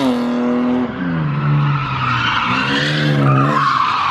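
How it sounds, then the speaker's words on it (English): BMW E36 with a welded differential drifting, tires squealing loudly and continuously with wavering pitch as the engine strains underneath, close by. "Hey, at least he's drifting though."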